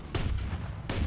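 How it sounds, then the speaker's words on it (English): Heavy tank cannon in War Thunder firing at a tree, two loud booming blasts with rumbling low-end roll between them, close and dense, no voices. "How many heavy cannon rounds does it take to shoot down a tree?"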